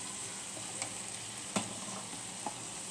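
Spices sizzle in a pan just after turmeric powder goes in for an aloo tomato pulao, a quiet, steady frying hiss with a few soft stirring taps and no talk.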